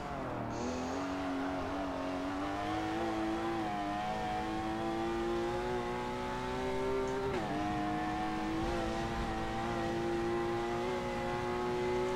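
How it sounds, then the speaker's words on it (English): A race car drifting on a track in Forza Motorsport 7, the engine holding a steady, close drone with small pitch rises and one sharp shift, faint tire scrub underneath. "Drifting on this track's pretty fun"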